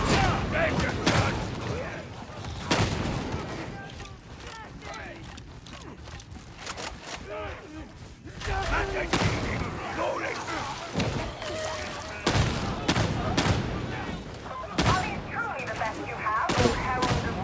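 Repeated shotgun blasts from Darktide 40K, sharp broadband bursts at irregular intervals over a busy game backdrop of clanking mechanisms and talk.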